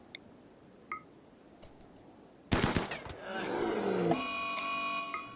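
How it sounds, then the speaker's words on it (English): Assault rifle fire aimed at a polar bear in the video game Rimworld on an ice sheet, a sudden loud burst of rapid gunshots followed by a roaring animal growl and game effects. "we can move him a bit closer and then open fire"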